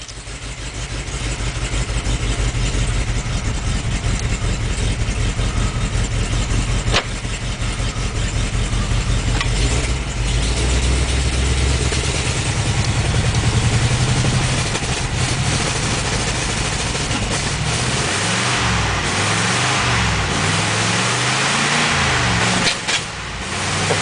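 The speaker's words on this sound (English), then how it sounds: "There, she's idling like she's supposed to." A 1954 Ford Mainline engine, cold-blooded and long unused, with a slightly overfull carburetor and the choke partly out, idles after a winter cold start in a steady, close, continuous rumble with slight shifts in tone and no voices.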